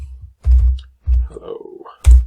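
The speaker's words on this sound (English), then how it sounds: "and I use start typing." Short bursts of computer keyboard typing, a few quick clusters of key clicks separated by pauses, close and fairly loud, with a voice briefly audible between them.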